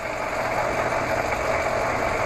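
A used metal lathe runs with a steady mechanical whir and a constant high hum, the motor and gears turning evenly and close by without any voices.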